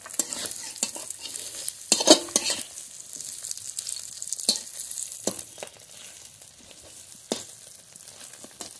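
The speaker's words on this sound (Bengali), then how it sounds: "এবার ডিম ভেজে নেব।" Eggs fry in hot oil in a pan for an omelette curry, a soft continuous sizzle broken by sharp scrapes and clicks of a spatula stirring and turning, with no talking.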